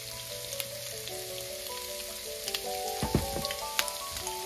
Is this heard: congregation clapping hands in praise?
no